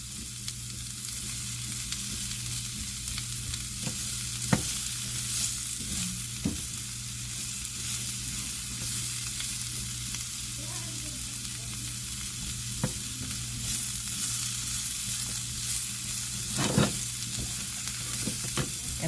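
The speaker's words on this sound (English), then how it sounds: "So now you're mixing up your vegetables and your potatoes" Sausage, potatoes and vegetables fry in a pan over medium heat, a steady close sizzle broken by occasional scrapes and knocks of a utensil as the mix is stirred, with no talking.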